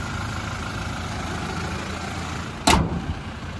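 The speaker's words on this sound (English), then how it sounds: "as we listen to that engine run, there's no major knocks, rattles or squeals. It's ticking over nicely." A 2019 Toyota Prado GXL engine idling smoothly, a steady low hum with no knocks or rattles, interrupted by one brief sharp noise near the end.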